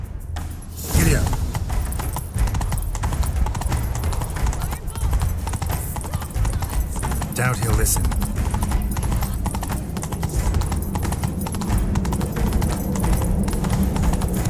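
Horse hooves gallop in The Witcher 3 game, a fast continuous clip-clop rhythm that runs nearly the whole stretch, with a brief whinny early and voices speaking over the pounding hooves.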